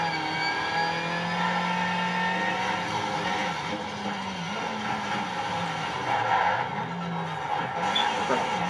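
A front-wheel-drive race car in Need for Speed Shift 2 holds a loud, steady engine drone with wavering pitch as it accelerates, and a voice talks faintly underneath.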